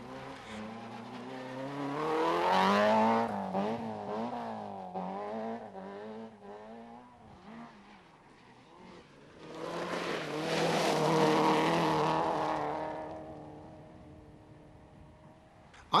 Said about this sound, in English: After this high-speed slide, he rolled the Astra while in the lead and failed to finish.